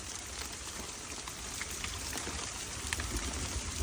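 Hail and freezing rain leak through a shelter roof, making a steady dense patter of drops close by, with a few sharper taps standing out against the continuous wash.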